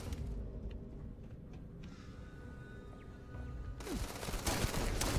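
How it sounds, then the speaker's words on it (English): Bursts of gunfire in the space-exploration video game Starfield, a muffled, moderately quiet volley that grows louder and denser toward the end over a low ambient game hum. "Who's shooting me?"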